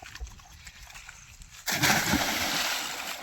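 A quiet outdoor scene broken by a sudden loud splash as a person jumps into water in a 100-foot-deep quarry, followed by churning, sloshing water noise.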